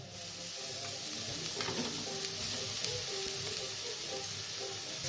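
Cauliflower florets sizzle and hiss steadily in a hot pan, with occasional scrapes and clinks of stirring over a constant frying crackle; no talking.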